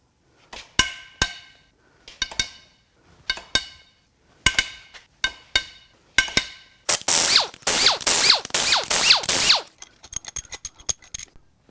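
Sharp ratcheting clicks and metallic cracks come in repeated bursts as cylinder head bolts on a Subaru WRX FA20DIT engine are broken loose, followed by a longer whirring spin of a tool and lighter clinks; close and distinct, no talk.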